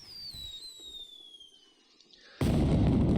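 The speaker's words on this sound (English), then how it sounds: "Oh, so it looks like the fireworks has started." Video game fireworks: a high shrill whistle descends steadily, then a loud broad burst erupts and keeps crackling.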